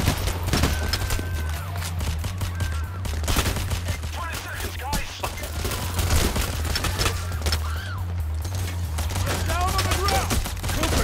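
Dense rapid gunfire from Payday: The Heist fills the scene, with sustained machine-gun bursts and scattered shots over a low steady rumble, while voices speak intermittently underneath.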